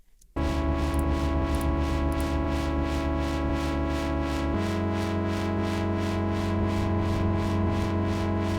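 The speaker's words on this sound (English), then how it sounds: "Then I added this distortion preset from Bitwig, and I mapped this random modulator to the mix" Synth chords pushed through a Bitwig distortion preset with a randomly modulated mix, gritty and dirty with pulsing swells, one chord change partway, playing alone.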